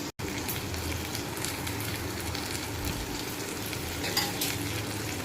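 Potatoes and spices for Bengali aloo posto fry in a pan, giving a steady, close, dense sizzle that runs unbroken with no talking.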